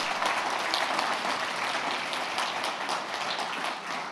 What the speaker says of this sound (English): Just let's give them a round of applause.